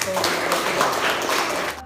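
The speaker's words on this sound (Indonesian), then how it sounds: "Tepuk tangan." Short burst of classroom clapping as students applaud the best group during a teaching practice lesson, dense and close for under two seconds before cutting off.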